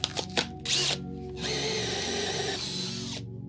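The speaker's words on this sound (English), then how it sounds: "I have my drill bit now, so we can properly mount these panels." A power drill running for a couple of seconds as it bores into light panels being mounted in a studio, with a few short taps and bumps first and then a steady, close, whirring motor sound.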